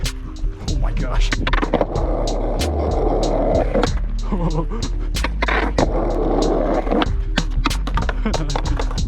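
Skateboard wheels roll and grind over pavement while the rider skates switch, with repeated sharp clacks and thwacks from the board as the continuous rolling rumble goes on throughout.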